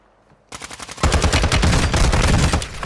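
Rapid automatic gunfire in a video game, starting as a quick burst and then swelling into a dense, loud, continuous barrage of overlapping shots from several directions.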